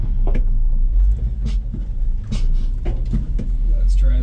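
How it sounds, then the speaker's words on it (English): A 1985 GMC Sierra C20 square-body truck engine rumbles and revs loudly up close while its tires chew through a gravel driveway on a hill, with steady low drone and scattered crunching bursts. "Chewing up this guy's driveway."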